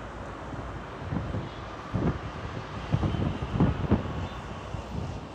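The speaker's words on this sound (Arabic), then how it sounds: "واحنا دلوقتي كنا بنصور محطة مترو كلية الزراعة" Inside a Cairo Metro Line 2 station at Kolleyet El Zeraa, a steady rumbling hiss of a train and station ambience runs throughout, with several low thumps and rattles clustering in the middle.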